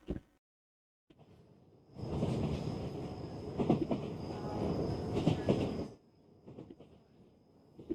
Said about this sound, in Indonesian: ada suara kereta api gitu ya